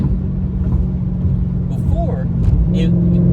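A tuned car engine hums steadily in sixth gear at highway speed, around 87 mph, with a low, constant drone as someone talks over it.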